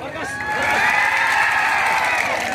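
A live crowd at a Nepali comedy stage show claps and cheers, a dense wash of applause with shouts and whoops that swells and holds, moderately loud throughout.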